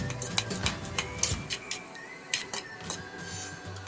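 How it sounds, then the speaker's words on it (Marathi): Cumin and mustard seeds crackle and pop in hot oil, a rapid irregular series of sharp little spits and snaps over a soft sizzle, close and fairly quiet. "त्यात आपण अर्धा चमचा जिरे, अर्धा चमचा मोहरी घालून घेऊ आणि त्यात छान कडू देऊ"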